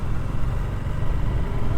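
A group of around fifty motorbikes rumbles together in a low, continuous idle on a town street before a breakfast ride, the engine noise steady and moderately loud with no voices.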